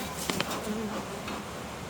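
Honey bees swarm around an open hive during an inspection, a faint but steady buzzing drone from many insects close by, with a few brief ticks and a short tonal whine over it.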